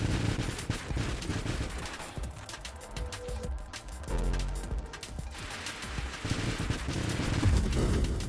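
Salvos of missiles launching in the space shooter Nova Drift, a dense, continuous barrage of rapid blasts and crashes at high volume with no pause.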